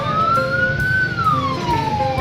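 An ambulance siren wails in a long rising and falling sweep, loud and close, with rain and street noise underneath during a storm with heavy rain in Pringsewu, Lampung.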